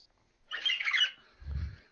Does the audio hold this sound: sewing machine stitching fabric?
no